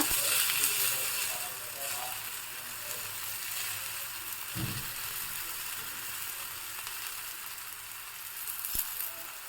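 Oil is drizzled around a roti on a hot pan and sizzles softly and steadily, a low continuous frying hiss with a couple of faint clicks, in a home kitchen.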